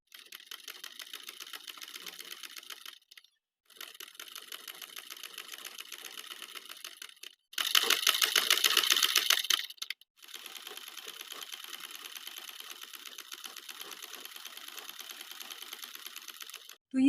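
A sewing machine stitches a bias strip onto a kurti neckline in long, close runs, with brief stops between stretches and one louder, faster burst in the middle.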